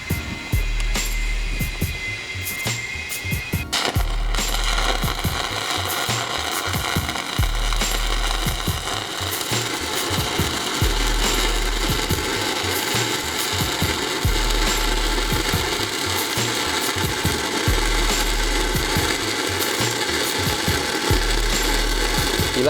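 Stick welding rod burning in a steady arc, a continuous loud crackling, sizzling roar that starts a few seconds in after a quieter moment and runs unbroken to the end, with no talk over it.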